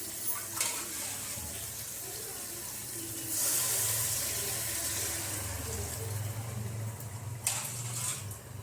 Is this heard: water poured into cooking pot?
yes